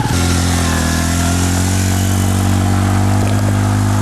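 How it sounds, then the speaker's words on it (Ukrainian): A Bajaj Boxer 125 motorcycle engine drones loudly and steadily up close off-road, a buzzing high-revving tone held for about four seconds before cutting off. "Кросовий мотоцикл."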